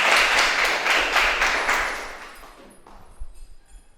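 A classroom of students applauds together, a burst of brisk clapping that fades out after a couple of seconds, leaving a quiet room with a few stray thumps.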